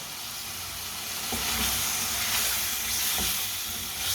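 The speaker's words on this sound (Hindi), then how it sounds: "चम्मच चलाते हुए भून लेंगे, इसकी बनाई कर लेंगे" Mixed vegetables, cooked Punjabi style for a winter dish, sizzle and hiss steadily in a hot pan on a raised flame. A spoon scrapes and clinks against the pan a few times as they are stirred.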